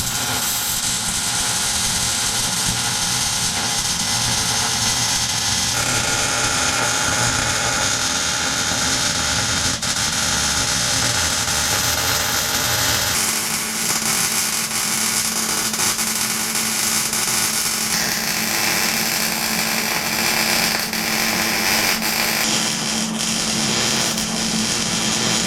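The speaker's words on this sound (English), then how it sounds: "I'm gonna go ahead and finish getting it welded out now, and I'm gonna do it in stages and jump around so nothing gets too hot and warps" Welding alternator brackets on a Trackster-tracked machine with a 670 Predator engine, done in short stages: a steady, loud, broad hiss and crackle runs continuously, changing character a couple of times as the welding moves.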